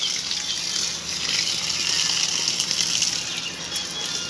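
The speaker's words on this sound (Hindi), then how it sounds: "अभी खेतों में पानी छोड़ रहे हैं हम" Irrigation water is released into farm fields, a steady rushing gush that flows continuously at close range, loud and even throughout, with no talking heard over it.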